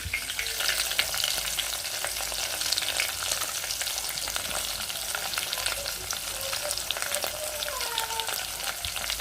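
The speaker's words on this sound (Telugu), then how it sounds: "రెండు చేపలు ఉల్లిపాయ పచ్చిమిర్చి అయితే బాగా ఫ్రై చేయాలి" Steady loud sizzling of dried fish frying in oil with chopped onion and green chili, a continuous crackling hiss with occasional stirring scrapes and no talking.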